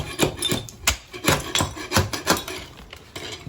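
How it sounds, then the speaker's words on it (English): Repeated scraping strokes as old plastic is scraped off a toilet during a flushometer-to-tank conversion, about a dozen short rasping passes in a steady rhythm, close and fairly loud with no talking. "Now, we're going to scrape away the old plastic"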